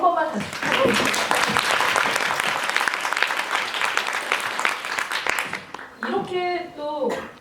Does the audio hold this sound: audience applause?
yes